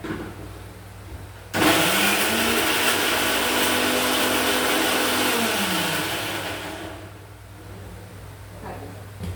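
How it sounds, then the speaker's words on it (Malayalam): A mixer grinder's small jar whirs loudly as it grinds face pack ingredients, the motor kicking in abruptly, running steadily with a rising whine, then cutting off and winding down. "ഇപ്പോൾ ചെറിയ ബൗളിട്ട് നമുക്കൊന്ന് അരയ്ക്കാം"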